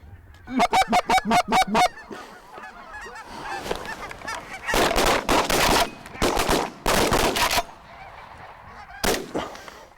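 Loud honking calls of geese in rapid bursts during a hunt, mixed with sharp gunshot bangs and a steady background rush.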